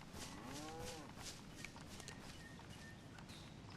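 A cow in DayZ lets out a single low moo early on, followed by quiet outdoor ambience with faint footsteps.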